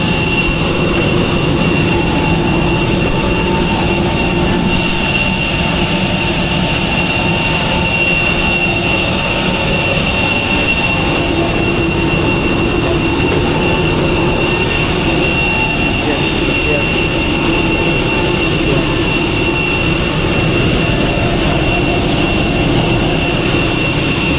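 A large airplane's jet engines roar steadily and loudly with a broad rushing whine and high tones, close by and unbroken for the whole stretch, with no voices heard.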